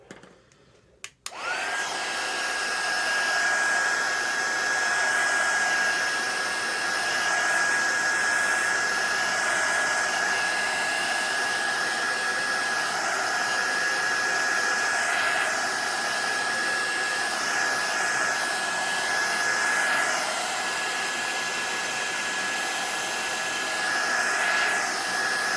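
A hair dryer running continuously to dry a freshly brushed painting, a loud steady close whir with a high whine that holds for the whole stretch after a brief switch-on, with no talk over it.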